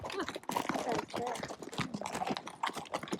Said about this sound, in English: Wow, that's a lot of horses.